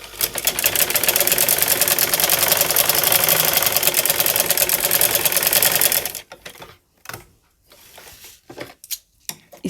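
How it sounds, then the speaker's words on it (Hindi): A sewing machine runs a diagonal seam across an embroidered neckline, humming steadily for about six seconds and then stopping, followed by scattered handling knocks and brief stuttering bursts. "तिरछी सिलाई लगाएंगे"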